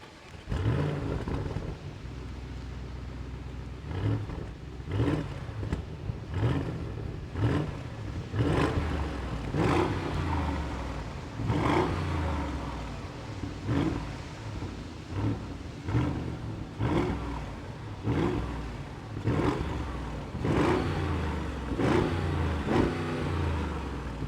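Outside view of a 2024 Audi SQ8 facelift SUV with a 507 hp V8, starting up and then revving in loud, repeated bursts over a steady idle, close by throughout with no talking.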